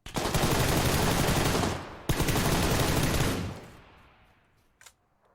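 Automatic gunfire in the video game PUBG Lite comes in two long, loud, rapid bursts, then trails off into quieter noise with a faint final shot.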